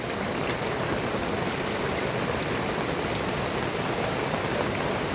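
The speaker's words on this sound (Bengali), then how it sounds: "মানুষ নাই, প্রচুর বৃষ্টি" A downpour hammers a waterlogged street in Al Buraimi, Oman, with shops shut and water over a foot deep: a thick, constant roar of rain splashing into floodwater, close and loud without pause.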